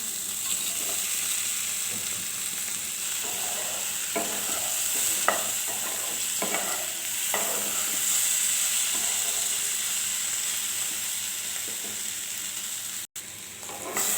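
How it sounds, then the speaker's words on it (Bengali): Fried chickpea fritters sizzle steadily in a pan of curry with papaya while a spatula scrapes and clatters through them in repeated stirring strokes. "এখন এড করব বড়া ছোলার বড়া"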